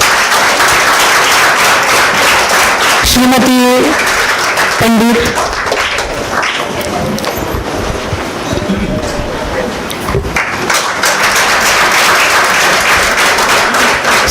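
An audience at a felicitation ceremony for the Sringeri Puraskar claps loudly and steadily almost throughout, with a voice briefly speaking over the applause near the start and a short lull in the middle.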